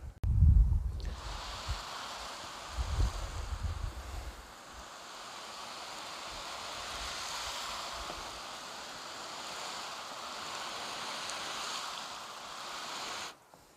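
Steady broadband hiss of a hose spraying water across a car's painted surface, continuous and fairly close for most of the stretch, with a couple of low thumps at the start.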